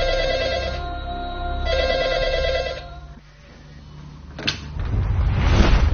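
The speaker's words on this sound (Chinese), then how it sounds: "她突然接到一个电话。" A telephone rings in two long electronic bursts, followed by a quieter pause and then clattering, door-like sounds nearby.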